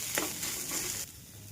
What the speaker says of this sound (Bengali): এইভাবে খুন্তি দিয়ে আমি চেপে চেপে আলুটা মিক্স করে নেব।